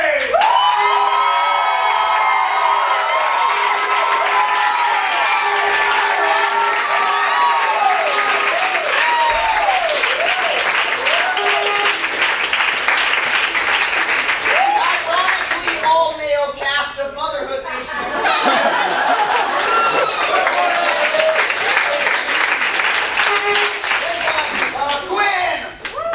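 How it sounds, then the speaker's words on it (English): Sustained crowd applause with cheers and whoops greeting improv teams at a comedy show, loud and continuous, with scattered shouting voices and a brief dip in the middle before the clapping swells again. "I would like you guys all to welcome with thunderous applause our two nations."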